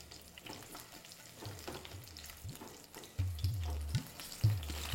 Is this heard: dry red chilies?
yes